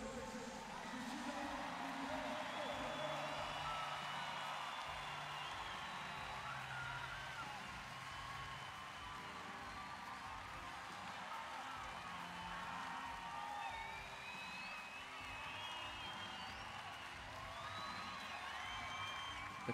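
Crowd cheering and whooping fills a packed wheelchair basketball arena at a women's Paralympic match, Great Britain against Argentina in Rio, a steady roar of many voices with shouts and whistles rising throughout.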